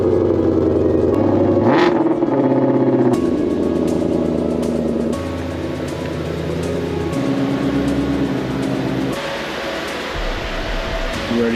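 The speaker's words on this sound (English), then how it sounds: "Let's see what this cold start sounds like." A 2021 Shelby GT500 with an X-pipe exhaust cold-starts with a sharp blip, then settles into a loud, burbling high idle that gradually drops in pitch, heard up close and continuous throughout.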